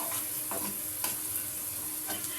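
A spiced cucumber pickle mixture with turmeric and red chili powder is stirred in a sizzling pan. A few distinct scraping strokes stand out over a steady, close hiss.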